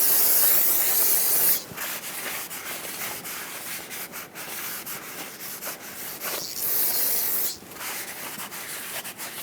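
Brake parts cleaner spraying onto a front brake rotor of a 1995-2004 Toyota Tacoma 2WD, a loud close hiss in bursts with short pauses and wiping rubs between them.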